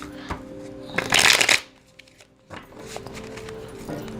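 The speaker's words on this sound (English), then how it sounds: "Let me shuffle again." Tarot cards are shuffled in one quick riffle that brings a loud, crisp burst of flapping card edges, followed by quieter handling and soft taps.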